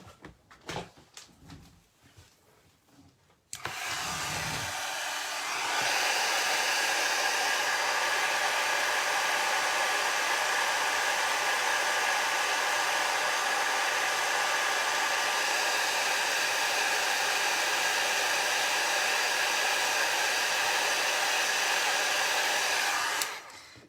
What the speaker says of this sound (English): This is my backup vintage heat tool that's about 20 years old